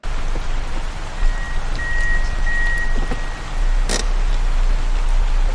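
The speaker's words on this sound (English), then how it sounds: "I ran to my car because it's raining" Steady rain falling in a Chilla's Art horror video game, a continuous broadband hiss of drops on surfaces with a brief sharp burst near the end and a thin tonal beep running through the middle, no talking.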